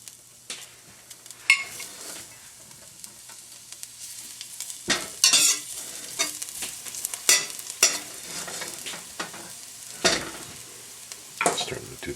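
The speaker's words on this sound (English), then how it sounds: "Starting to do the sizzle." Garlic sizzles in a hot pan, a steady soft frying hiss broken by stirring scrapes and occasional utensil clinks against the pan.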